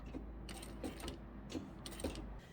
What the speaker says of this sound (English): Pop it under your machine and just go back and forth a few times.